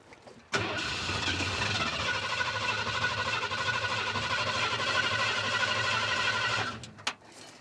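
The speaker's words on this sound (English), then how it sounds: "Well, it turned over. Probably got to give it some throttle." The engine of a 1976 Ford F250 crewcab truck, abandoned for about 20 years, cranks steadily for about six seconds with a rhythmic, pulsing whir, then cuts off, followed by a couple of sharp clicks.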